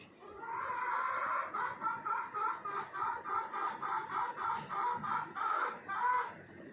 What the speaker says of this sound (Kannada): ಕೋಳಿ ನೋಡಿ ಬ್ಯಾಕ್ಗ್ರೌಂಡ್ ಮ್ಯೂಸಿಕ್ ಕೊಡ್ತಾ ಇದೆ.